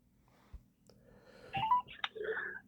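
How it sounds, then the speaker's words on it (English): A telephone dials out, with a few short beeping tones and clicks at moderate volume, nearby and with no talk. "I'm now ringing up Graeme Kenna."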